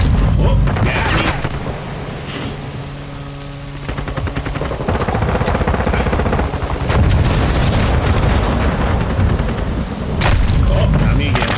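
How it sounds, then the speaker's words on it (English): Grenade blasts and heavy gunfire in Call of Duty Modern Warfare 2, with loud booming explosions and rapid shots throughout a chaotic battle, players talking over the noise. "Throwing grenade!"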